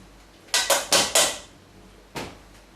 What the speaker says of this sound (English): We put it back in the mixing bowl.